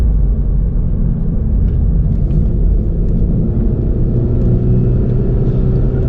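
A Scirocco R racing on track at Castle Combe, its engine a loud, steady, heavy rumble heard from inside the car without letting up.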